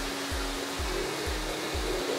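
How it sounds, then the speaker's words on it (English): A pool filter vacuum pulls waste from the bottom of a deep water culture bed, giving a steady loud whooshing rush with a low pulsing thump repeating about every half second, heard alone without talk. "So we're gonna vacuum it out using a pool filter."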